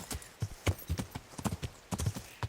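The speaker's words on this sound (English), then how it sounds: "Learn how to ride a horse" Horse hooves in the video game Kingdom Come: Deliverance sound as a steady, rhythmic clip-clop of a horse at a walk on hard ground, clear and close.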